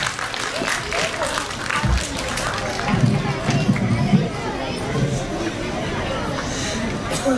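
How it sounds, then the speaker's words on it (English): A school audience at a primary-section poetry and storytelling competition applauds a young girl coming up to perform, a steady wash of clapping with crowd chatter mixed in, lasting the whole stretch at moderate loudness. "please give her a big round of applause"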